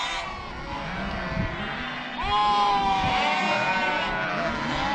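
Sheep bleat repeatedly at close range on a working farm during lamb marking and mustering, several overlapping calls rising and falling over a murmur of flock noise.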